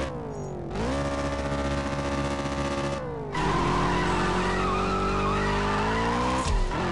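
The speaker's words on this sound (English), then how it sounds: "A lot of wheel spin." Hypercar from the Zenvo TSR-S and TS1 GT series in CSR Racing 2 spinning its wheels at launch, a loud sustained tire squeal over a screaming engine that shifts pitch at each gear change.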